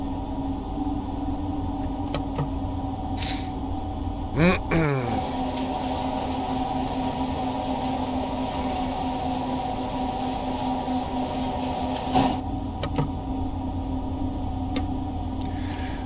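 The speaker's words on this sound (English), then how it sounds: "even with our two Traxx 2 locomotives pitching in full throttle, it is hard to get this train on speed up the hill here" Two Traxx 2 electric locomotives at full throttle hauling a heavy train uphill in a train simulator game, giving a steady low electric drone with constant rolling noise, a few brief clicks and a short squeal partway through, no talk.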